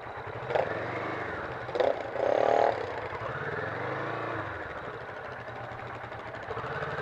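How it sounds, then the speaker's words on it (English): A Kawasaki Vulcan S cruiser motorcycle rides behind a supermoto, its engine a steady rumble under constant wind rush, with a few brief clunks and a short scraping burst near the start. "Cruiser following the supermoto."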